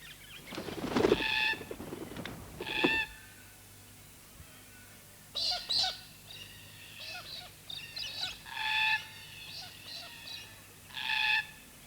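Galah cockatoos give harsh, screechy calls in the Australian bush, a loud cluster at first, then repeated shrill cries spaced apart against a quiet background.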